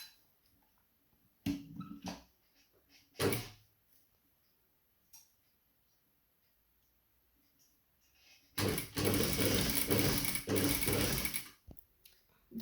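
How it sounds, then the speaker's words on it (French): Sewing machine stitching a narrow rib seam on bias binding, preceded by a few scattered clicks and knocks, then a loud close whirring run of about three seconds that stops abruptly. "Maintenant, je vais faire ma petite couture nervure."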